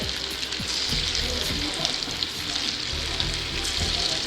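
Noodle pakoda fritters frying in hot oil, a steady dense sizzle with small bubbling crackles running throughout, fairly close and with no voices.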